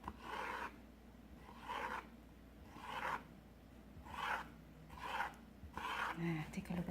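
A knife cuts through fleshy aloe vera leaves in six rasping strokes spaced about a second apart, close to the microphone and fairly quiet, with no talking between the strokes.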